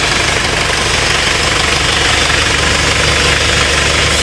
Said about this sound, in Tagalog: para makita nyo yung makina, ito yung makina niya.